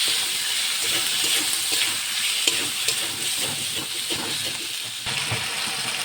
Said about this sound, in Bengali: তাতে টমেটো ও তেজপাতা দিয়ে আবার নাড়াচাড়া করে ভেজে নিলাম